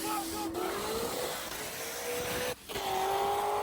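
Tires of a 900hp supercharged 2024 Ford Mustang GT spin on the street with a steady high whine over a rough engine roar, with a brief dip near the end before the squeal resumes.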